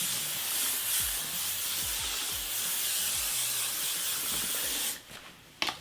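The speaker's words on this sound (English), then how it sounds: "I'm just gonna do my final layer of hairspray" Hairspray hissing in a steady, close spray for about five seconds over hair, then cutting off, followed by a few faint handling clicks.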